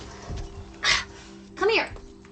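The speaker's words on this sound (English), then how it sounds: "I gotta let Puppy in" A dog outside a door gives a few short whimpers and a whiny yelp, close to the mic, with faint background noise between the sounds.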